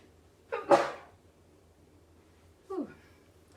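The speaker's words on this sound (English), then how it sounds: "Oh, excuse me, I have to sneeze." A single sneeze bursts out near the mic from a woman mid-talk during a tarot love reading, followed a couple of seconds later by a short, softer exhale.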